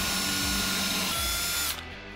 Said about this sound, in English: we'll get drilling our first couple pocket holes here